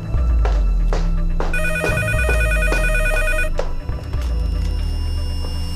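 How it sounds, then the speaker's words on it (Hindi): A telephone rings loudly indoors in a dubbed drama scene, a sustained electronic bell trill lasting a couple of seconds amid clattering household noises. "अलीना बेटी आके फोन सुनना जरा"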